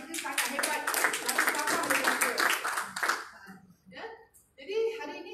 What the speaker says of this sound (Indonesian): Bagi tepukan pada Cikgu Zafri ni sangat hebat.